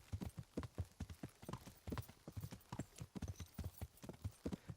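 Horse hooves clip-clopping at a quick, steady pace in Kingdom Come: Deliverance, a horse hauling a rider in heavy armor; the hoofbeats are close and loud, running unbroken through the whole stretch.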